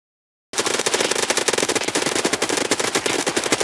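Automatic gunfire in Escape From Tarkov, a sudden burst of rapid, evenly spaced shots that starts after a brief silence and rattles on loudly for about three seconds.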